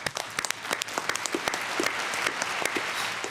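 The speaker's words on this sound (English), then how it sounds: "That's a lot of applause for the amount of people I just saw applauding." Scattered applause from a small in-studio talk-show audience, a short burst of uneven claps that thickens briefly then tails off, close and without speech.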